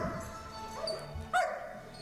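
A dog gives short barks and yips close by, one sharper bark standing out near the end over a light background hum.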